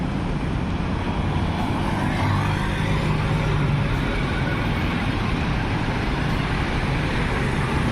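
Steady traffic on congested city streets, cars, scooters and tuk-tuks crowding the road, forms a continuous dense roar with low engine rumble and no breaks, fairly loud and close throughout.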